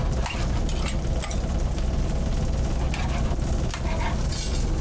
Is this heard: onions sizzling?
yes